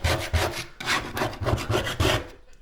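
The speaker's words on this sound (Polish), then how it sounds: "trzeba będzie wziąć taką mocną szpachelkę. Przynajmniej ja tak to wcześniej robiłem. O. I zacząć skrobać to." A strong putty knife scrapes tape and old paint from nearly century-old wooden stairs, with repeated rough rasping strokes about twice a second, close and loud, without speech.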